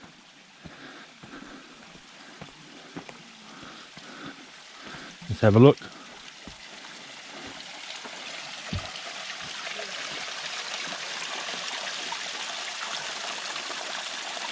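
A small mountain creek in late August runs low beneath a little footbridge on a trail at Mount Rainier, giving a steady soft trickle and wash that grows slightly fuller over time, with someone talking briefly early on.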